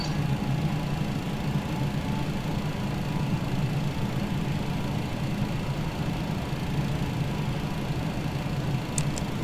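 Steady low engine drone from a TFDI MD-11 FedEx jet on the ground in a flight simulator as engine number 3 is started, a constant rumbling hum with a faint higher whine, unchanging throughout.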